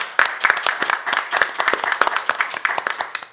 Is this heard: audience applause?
yes